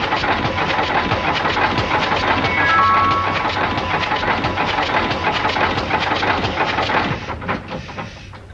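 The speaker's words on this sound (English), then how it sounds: "Keep that engine running." Boat engine running steadily in a 1941 radio drama adaptation of Topper Returns, a loud continuous motor drone with rattling texture that fades slightly near the end, no voices over it.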